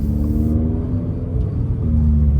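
A Subaru BRZ / Toyota GR86 on BC Racing coilovers droning through its exhaust while driving, a steady, loud low rumble with faint burbles and no clear distinct pops.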